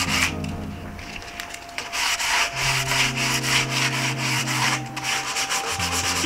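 Foam board being hand-sanded to knock off rough knobs and crisp up a curve, a steady close scratchy rubbing with rhythmic back-and-forth strokes running through the whole stretch, no voices.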